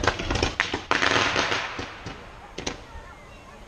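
Pyrotechnic rockets exploding over a harbour at a seaside display, a rapid series of sharp booms and cracks of varying loudness, some overlapping, with crowd noise and voices underneath.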